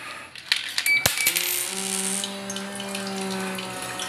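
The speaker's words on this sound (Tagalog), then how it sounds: "So, laglagan natin ng piso." A peso coin drops into the coin slot of a water vending machine with a sharp metallic clink and rattle, followed by a faint trickle of dispensing water and a lingering mechanical hum.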